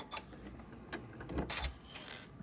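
A sewing machine topstitches a placket at close range, giving a faint, steady mechanical whir with light rattling and a few small bumps as the fabric is fed through.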